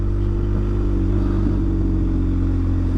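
BMW R1250GS adventure motorcycle under way, its exhaust a steady low rumbling drone with a slight rise in pitch midway, heard close and continuous with wind noise, no voices.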